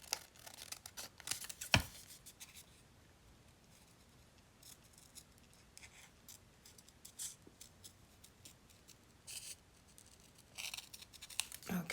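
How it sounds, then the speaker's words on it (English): Scissors fussy cut paper for an altered file folder, making quiet, close, intermittent snips and crisp paper rustles in an otherwise quiet room. "It's really hard for me to fussy cut"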